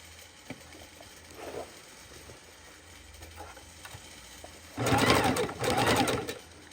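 A sewing machine stitching a raw-edge appliqué runs in two short, fast, close bursts after a few quiet seconds of faint room sound.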